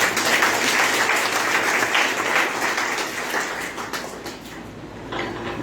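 An audience of schoolchildren claps at a school event in Sabuana, Fazilka, Punjab, producing dense, sustained applause close by. It stays loud and even throughout, then thins slightly toward the end, with no talk over it.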